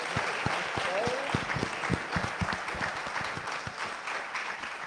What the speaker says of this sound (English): Can we give a round of applause before to these three?